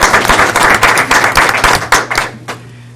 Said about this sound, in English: We can applaud that if we want.